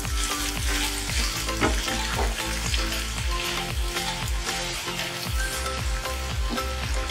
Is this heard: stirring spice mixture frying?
yes